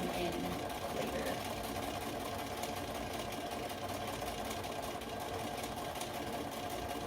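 A sewing machine runs steadily for about seven seconds, stitching the seam of a fabric face mask, a continuous mid-level mechanical whir.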